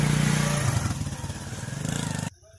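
A motorcycle engine on a boat ferrying it across water, a close, loud chugging drone with a throbbing pulse that runs steadily, then cuts off abruptly just before the end.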